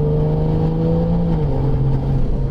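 A Varis widebody Toyota A90 Supra fitted with a Garrett turbo system, heard from close by as a loud sustained engine drone with a steady tone that dips slightly partway through under load.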